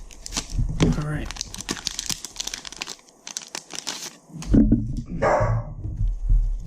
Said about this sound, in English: My dog getting upset about something.